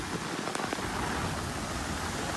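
Heavy rain pours down during a record downpour in Korea, a dense, steady roar of broadband hiss that fills the whole stretch without let-up, with no voices.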